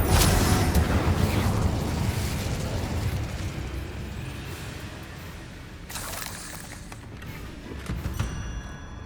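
A fire spell cast in the Hogwarts Legacy video game on PS5, heard as a loud whooshing burst with rumbling fiery crackle that fades, then a second flare of bursts near the end, amid game sound effects and no talk.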